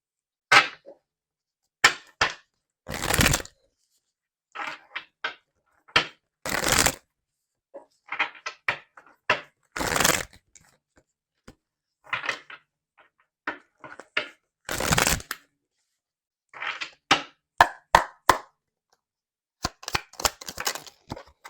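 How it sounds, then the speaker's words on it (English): Tarot cards shuffled and drawn in repeated bursts of crisp riffling and slapping, close and fairly loud, with short pauses between handfuls and no talking. "let's get some more cards to see more of what's going on here"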